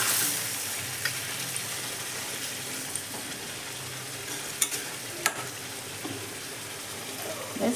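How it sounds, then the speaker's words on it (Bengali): Chicken frying in a pan on a stove with a steady low sizzle, broken by a few sharp scrapes and clinks as it is stirred, fairly close and moderate in volume, with no one talking. "একটু নেড়ে ছেড়ে দিবেন।"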